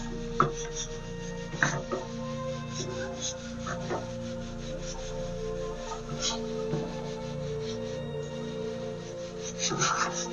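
A spoon stirs ragi flour into cooked rice in a pot on a low flame, making repeated thick scraping and rubbing strokes with occasional sharper knocks against the pot. The strokes are close but fairly quiet, and nobody speaks.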